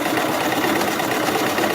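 A sewing machine stitching fabric for a tufted pillow, a fast continuous whirring hum running loud and steady throughout.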